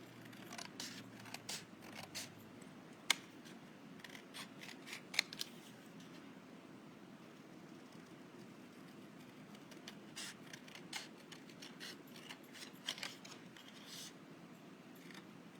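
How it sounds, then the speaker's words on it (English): Quiet scissors snipping in short irregular bursts, with brief pauses between cuts and soft paper rustling in the background. "or just use your scissors."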